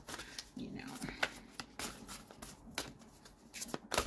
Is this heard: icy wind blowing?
no